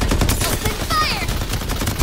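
An Uzi submachine gun in the video game Farlight 84 rattles off dense rapid bursts up close, mixed with game effects and a brief whistling tone, steady fire for two seconds.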